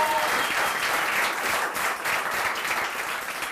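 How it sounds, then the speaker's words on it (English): An audience at a Berlin stand-up comedy show bursts into loud sustained applause, a dense wash of many clapping hands filling the room without pause. "give a huge round of applause to the wonderful bar staff from Myxa Café"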